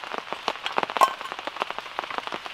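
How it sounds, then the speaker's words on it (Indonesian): Rain falling on a campsite in the forest during a thunderstorm, close irregular patter of drops striking a surface, dense and continuous. "Ini hujannya nggak berhenti ya."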